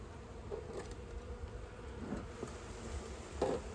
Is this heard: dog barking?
no